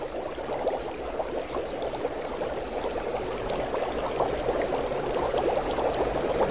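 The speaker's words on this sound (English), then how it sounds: "Where the water bubbles out, it's too hot for just about any living organism." Hot spring water bubbling up from the ground in a steaming geothermal field: a continuous gurgling, pouring wash that stays close and steady throughout, with no voices.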